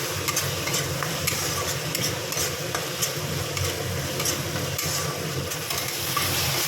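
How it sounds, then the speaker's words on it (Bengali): Spice paste with Kashmiri chili powder being stirred and fried in oil in a pan for a cauliflower, potato and fish curry, a steady close sizzle with scraping stir strokes, no voices. "এবার একটু ভালো করে নাড়ব ভালো করে কষিয়ে নেব মশলাটা যতক্ষণ না তেল ছেড়ে দেয়"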